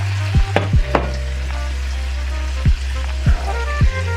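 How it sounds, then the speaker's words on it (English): Green beans stir-frying with garlic in a hot pan in a Chinese-style dish, with a steady sizzle broken by several sharp clanks of a spatula tossing them. "go ahead and add your green beans back in"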